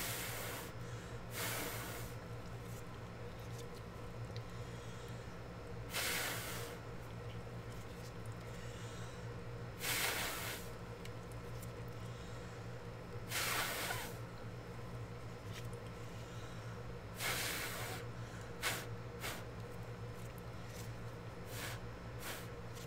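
Short breathy gusts of air blown across poured acrylic paint treated with cell activator, forming a bloom. About six or seven separate puffs come every few seconds over a steady low hum, with no talking.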